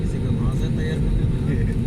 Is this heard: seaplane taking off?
yes